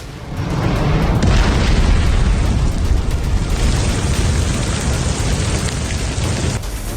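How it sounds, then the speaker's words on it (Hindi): A loud explosion as an Air India AI-171 plane crashes into a building after takeoff in Ahmedabad, followed by several seconds of sustained roaring rumble that fades slightly toward the end. "इसके बाद जोरदार धमाका हुआ और चीख पुकार मच गई।"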